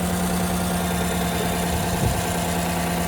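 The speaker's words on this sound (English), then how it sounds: "That's the 8-cylinder" The V8 engine of a newer Chevrolet Silverado idles with a loud, steady low rumble and a constant drone, close by, with no change in pitch.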